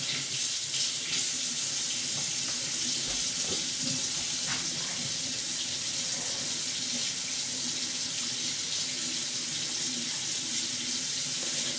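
Tap water pouring into a pot, a continuous hissing stream heard up close at a steady level with no talking.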